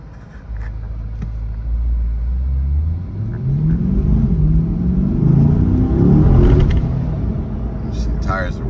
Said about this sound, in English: Once I get closer to the freeway, I'll open it up a little bit. Let me put this thing in sport.